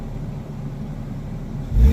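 A Lexus GS300 with a 2JZ engine and deleted muffler idles with a low exhaust rumble, then revs up sharply at the end.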